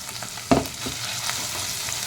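Green chillies frying in a pan with ginger paste and turmeric, a steady close sizzle with one sharp stirring knock near the start and softer scrapes after.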